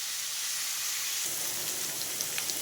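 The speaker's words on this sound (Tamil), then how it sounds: "வெங்காயம் நல்லா வதங்கணும்" Onions sizzle steadily as they sauté in hot oil in a pan, a constant close frying hiss with faint crackles and no talking.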